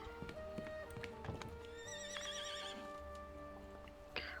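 Horses whinny and hooves clip-clop in a horse ranch video game, with a clear neigh over steady game ambience and soft hoof steps.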